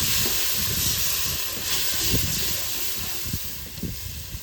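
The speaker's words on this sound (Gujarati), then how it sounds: "ડુંગળી નહોતી એટલે આવો વઘાર આપ્યો." Spices tempered in hot oil, without onion, over an outdoor cooking fire by the sea give a steady, broad sizzling hiss that stays fairly loud and unbroken throughout.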